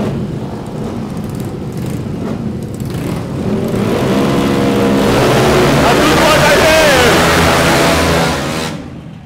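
Automatic 160cc scooters racing in a sprint event, engines revving and whining as the pack accelerates off the start, the drone swelling and then cutting off, with a commentator talking over it.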